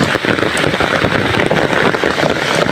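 Steady rain pours outdoors during a wet-weather mushroom hunt, a dense, unbroken hiss of drops hitting surfaces nearby, loud and continuous with no talk.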